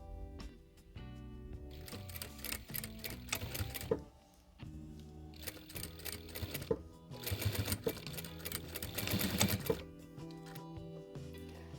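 Sewing machine running a line of stitching along a fabric edge while sewing baby overalls: rapid mechanical chattering in bursts with brief pauses, fairly quiet and close, with no talking.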